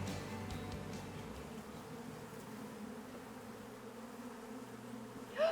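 Honey bees, a colony of about 40,000 in an old shed, make a steady low buzzing hum that stays faint and even throughout, with a small bump in loudness at the very end.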